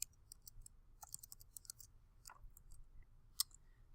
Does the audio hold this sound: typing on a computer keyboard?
yes